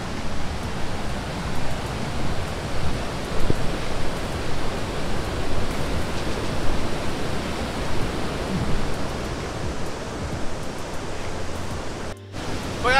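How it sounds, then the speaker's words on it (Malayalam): Steady, dense roar of an unfrequented waterfall near Munnar, a broad rushing wash of falling water that holds loud and even throughout with no voices over it. "നമ്മൾ മൂന്നാറിൽ അധികം ആൾക്കാർ ആരും വരാത്തൊരു വാട്ടർഫാൾസ് ആണിത്."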